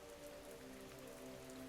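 Steady rain falling on a surface at night, a soft, even hiss of drops that continues unbroken, with a faint low tonal hum underneath and no voices.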